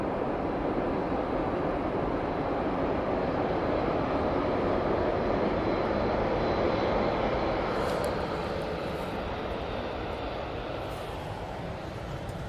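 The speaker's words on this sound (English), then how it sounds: "Beautiful landing there from the Emirates A380. Barely just kissed the tarmac there." An Emirates Airbus A380 airliner lands at Manchester Airport, heard as a broad, steady roar of engine and wind noise from a distance that slowly eases toward the end.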